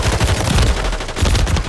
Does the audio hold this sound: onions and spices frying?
no